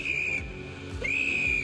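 An emergency whistle gives two clear, sustained high-pitched blasts with a short gap between them, close and loud over a low background hum.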